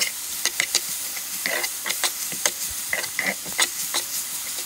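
Chopped jute leaves (nalí pata) being stirred in a frying pan, with repeated scraping strokes and bursts of sizzle over a low hiss, close and moderately loud.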